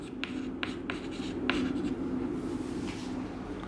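Marker or chalk writing a vector equation on a board during a physics lecture, a series of short scratchy strokes and taps at an uneven pace, fairly faint over a low room hum.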